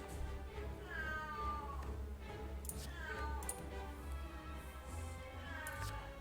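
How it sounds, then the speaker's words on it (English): A loud cat meows in a few drawn-out, rising and falling calls over a steady background hum, heard up close. "Also got a very loud cat in hand."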